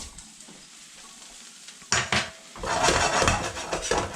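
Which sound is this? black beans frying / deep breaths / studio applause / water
black beans frying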